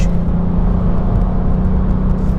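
Volkswagen Up GTI engine droning steadily from inside the cabin while driving, a low continuous hum with road noise and no talk.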